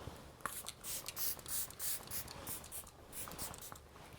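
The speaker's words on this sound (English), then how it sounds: "I'm going to opt for a setting spray today, the Makeup by Mario one." Makeup by Mario setting spray misted over a freshly made-up face in a series of soft, quick hissing spritzes, close and fairly quiet, with no talking.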